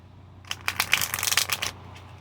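Tarot deck being shuffled by hand, a quick run of crisp papery riffles and flicks lasting about a second, close and alone.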